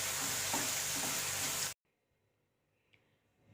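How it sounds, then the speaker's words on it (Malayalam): Tomatoes sautéing in a pan for a fenugreek-leaf thoran give off a steady, close sizzle with faint stirring scrapes, then cut off abruptly to near silence halfway through. "ടൊമാറ്റോ ഇട്ട് നന്നായിട്ട് വഴറ്റുക."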